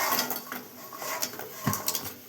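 Small kaja sweets drop into a metal pan, making a scatter of light clinks and taps against the metal, close and fairly quiet, with irregular small impacts spread over a couple of seconds.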